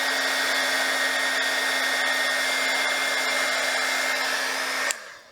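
A heating tool blows a steady, loud, even whoosh at a plastic jar label to soften its adhesive, then cuts off abruptly near the end.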